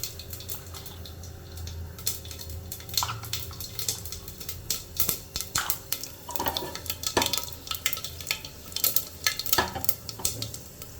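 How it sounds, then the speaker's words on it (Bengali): Dried chilli and bay leaf tempering spices fry in hot oil for vegetable khichuri, a steady close sizzle broken by frequent clinks and scrapes of a spoon stirring against the pan. "তো এটাতে আমি ফোড়ন দিব শুকনো লঙ্কা, তেজপাতা।"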